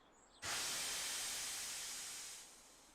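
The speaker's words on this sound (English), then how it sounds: "he lets out a slow whoosh of steam" A single long, slow hiss of steam from Thomas the Tank Engine bursts out suddenly and holds steady, then slowly fades over a couple of seconds.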